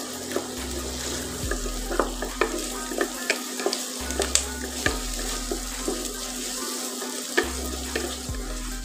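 Onions frying with ginger-garlic paste for a homestyle local chicken curry, a continuous close sizzle broken by repeated rhythmic stirring scrapes and clinks of a spoon against the pan, without any voices.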